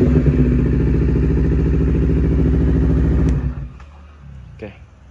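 Honda CBR250RR motorcycle engine revving loudly and steadily for about three seconds, then cutting back to a low idle with brief clatter.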